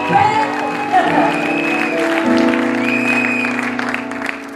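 An audience at a gospel concert applauds and cheers in a sustained wash of clapping, with voices and sung or held tones carrying over the crowd noise throughout.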